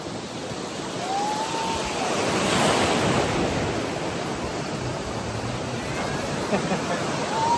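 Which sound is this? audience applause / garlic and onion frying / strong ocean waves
strong ocean waves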